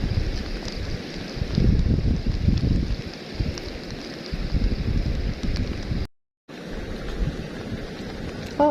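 Gusty wind blowing outdoors during rain in rural northeast Thailand while a fishing net is being lifted, a steady broadband rush that swells and eases and cuts out briefly near the end.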